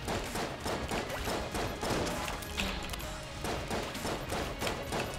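Enemy gunfire fills a bullet-hell firefight in Enter the Gungeon, a dense, steady barrage of rapid shots and thuds continuing throughout at close range.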